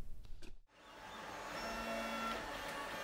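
A 3D printer printing ABS parts for robotic exosuit legs gives off a steady mechanical whir and hum at close range, following a brief clatter and a short near-silent gap at the start.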